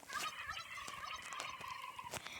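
Turkeys gobble in the Roblox Brookhaven RP game, a rapid rattling burst of gobbles that repeats throughout, with several overlapping calls and sharp clicks between them.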